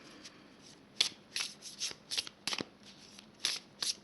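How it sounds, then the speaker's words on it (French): Oracle cards being shuffled and drawn by hand, with a series of crisp, papery flicks and slides at an irregular rhythm, close and fairly quiet with no talking. "je vais donc piger 2 cartes"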